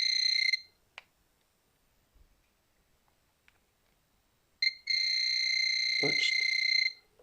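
Axiom 3000 inverter giving two loud electronic beeps, a short one at the start and a longer sustained tone about two seconds long, with faint clicks in the quiet gap between.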